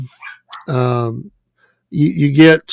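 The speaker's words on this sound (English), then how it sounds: "if you hear my dog in the background" A pet dog barks and whimpers in the background of a casual front-porch conversation, with a couple of yelping, voiced calls heard between and under a person talking.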